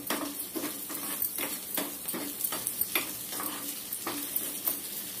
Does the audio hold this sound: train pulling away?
no